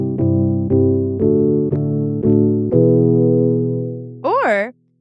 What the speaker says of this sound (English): So there's guitar voicings, which sound like this.